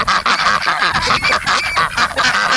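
Farm ducks quack and honk loudly in a continuous, overlapping chorus close by, one bird's voice higher and squeakier than the rest.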